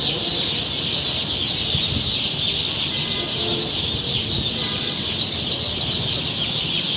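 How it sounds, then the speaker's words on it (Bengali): A dense, continuous chorus of broiler chicks chirping, steady and fairly loud throughout with no pauses and no talking. "সবচেয়ে ভালো মানের ব্রয়লার মুরগির বাচ্চা দেখাবো আপনাদেরকে"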